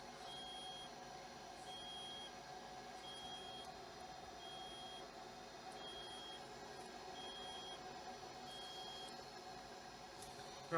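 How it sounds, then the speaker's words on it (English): A buzzer beeps in a steady, evenly spaced series of short, high-pitched tones over a constant background hum, sounding faint and somewhat distant. "get this buzzer to stop"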